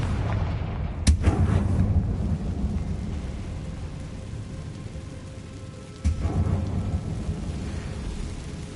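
Two heavy booming blasts of the Confringo fire spell in the Hogwarts Legacy video game, one near the start and a second several seconds later, each rolling off into a low rumble over steady game ambience.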